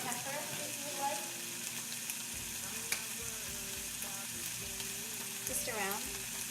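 Marinated lamb laid over onions frying in a pan, a continuous sizzle with stirring scrapes and faint clatter, while someone talks quietly in the background.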